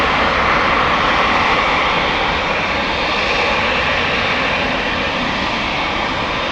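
A KLM Boeing 787 airliner bound for Cape Town departs Amsterdam Schiphol, a loud sustained engine roar with a bright hissing wash, steady and unbroken, no talking.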